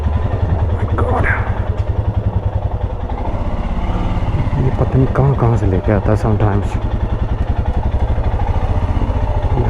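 A motorcycle engine chugs steadily up close while riding through narrow town streets lined with tightly packed buildings, a rhythmic low throb running the whole time beneath someone talking.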